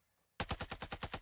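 Rapid burst of automatic gunfire from an RPK light machine gun in a video game, about nine sharp, evenly spaced shots starting abruptly after a short silence, loud and close.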